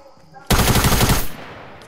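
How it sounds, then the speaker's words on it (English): Rapid SMG gunfire from a video game erupts abruptly as a loud, dense burst of about three quarters of a second, with fast repeating shots, then cuts off into quieter background. "I'm gonna use double tag SMG"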